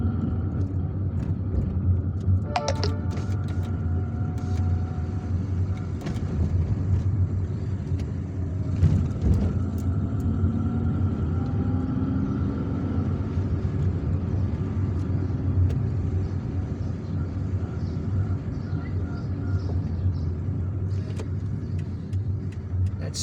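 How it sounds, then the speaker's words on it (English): A car drives along a wide road in Algiers with heavy oncoming traffic, a steady low engine and road rumble running throughout, with passing vehicles swelling briefly and a short horn-like tone early on. "There is a wide road, lots of oncoming traffic, so we need to be careful."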